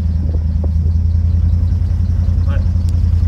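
A Chevrolet C3500 truck running again after two years left sitting, its engine idling with a steady close low hum and a faint belt squeak, plus a few brief clicks.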